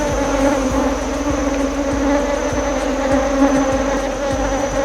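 Honeybees drone in a dense, steady buzz at a healthy, full hive, a continuous hum from many insects close by with no voices.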